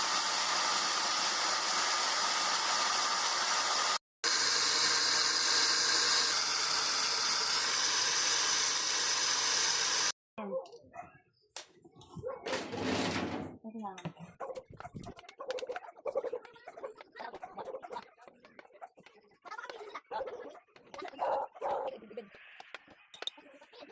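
A blender grinding turmeric into powder whirs loudly and harshly for about ten seconds, cut by a brief stop. It is followed by quieter, scattered clattering and handling sounds.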